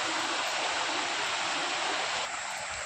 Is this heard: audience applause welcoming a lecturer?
no